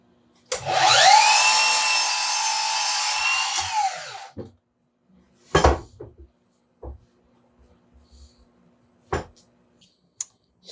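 A Milwaukee M18 Fuel power tool whines loudly through wood for about four seconds, then winds down, followed by scattered clunks and knocks of handling the cut piece.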